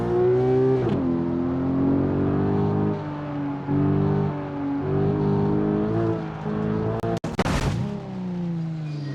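A race car is crash-tested in the BeamNG Drive video game: a loud, steady engine drone with shifting pitch runs throughout, broken by one sharp crash burst near the end before the motor resumes.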